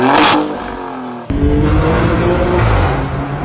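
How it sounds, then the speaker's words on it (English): Maserati Grecale Trofeo with a 523-horsepower twin-turbocharged V6 and quad-tipped exhaust, revving hard and loud up close, a brief pause, then a second sustained throaty rev that rises again near the end. "thanks to the quad-tipped exhaust, it sounds balisimo."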